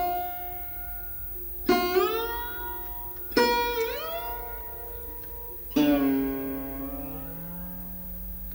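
Sarod, the North Indian plucked lute, played with the strings stopped by fingernail for a brighter, ringing tone: three loud plucked notes, each decaying with sliding, bending pitch, heard alone and up close.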